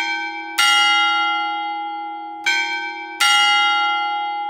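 The largest church bell strikes the hour with a motor-driven hammer, giving three loud metallic strokes whose deep, humming tone rings on and slowly decays between blows.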